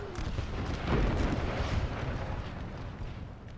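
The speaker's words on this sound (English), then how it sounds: "Some nice, juicy hits with the artillery" Artillery fire in a Napoleon Total War American Civil War battle rumbles as a dense, continuous wash of distant booms and cracking gunfire, swelling briefly then holding steady, with no talk over it.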